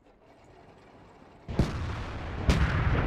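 Lorraine 155 mle.50 artillery gun firing in a video game: two heavy booming shots about a second apart, each loud and close with a rumbling tail, over a low background hum.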